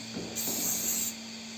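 A short hissing burst of adhesive spray onto a 3D printer bed, lasting under a second, close by, with faint clicks just before it.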